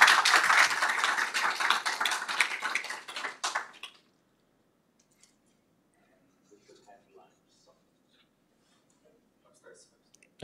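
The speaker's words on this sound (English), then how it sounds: "Okay, then I guess it's time for the applause." Audience applause at a Wikidata workshop, a burst of rapid clapping lasting a few seconds before fading into near silence with scattered faint noises.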